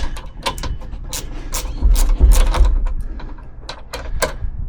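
A ratchet wrench turns a bolt on the roll bar of a 1992 Jeep YJ, a close run of rapid metallic clicks in short bursts, with some thuds from the work.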